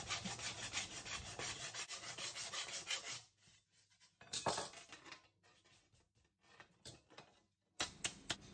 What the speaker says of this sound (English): With the welds complete, I use my flat file to dress them down.